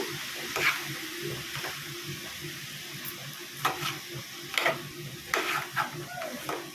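Pumpkin halwa mixture being stirred in a pan, heard as soft intermittent scrapes and thick, wet shuffling strokes, quiet and close, with faint sizzling underneath.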